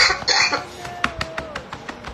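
A few harsh coughs up close, followed by a string of short, sharp bursts spaced out as the coughing fades.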